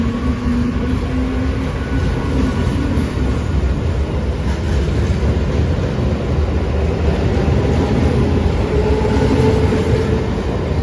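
The Hasnabad local train from Sealdah runs through rural Bengal with a steady, loud rumble and rattle that holds unbroken throughout, heard from on board with no voices.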